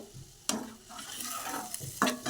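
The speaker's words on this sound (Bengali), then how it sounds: "তো আমি এবার একটু নেড়ে নেব" A spoon stirs guru fish curry in a pan after mustard water is added, with a steady sizzle throughout and two sharper scraping strokes standing out, no voices.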